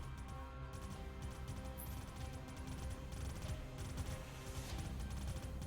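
Rapid gunfire volleys in the Terra Invicta space strategy game as a defenseless ship is shot down, a dense continuous barrage of overlapping shots layered with electronic tones and game music.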